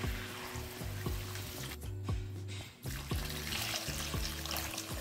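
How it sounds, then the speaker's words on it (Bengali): Water poured into a pan of mankochu and shingi fish curry makes a steady close trickle and splash, with a brief pause midway before the flow resumes. "এবার দিয়ে দেবো জল।"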